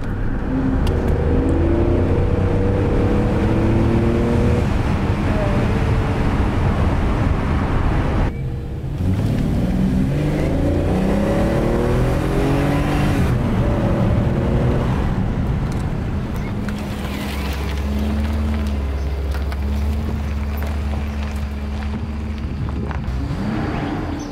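A BMW 750iL V12 sedan, left ten years in a field, drives with a loud continuous engine drone that swells and rises as it accelerates, heard from inside the car.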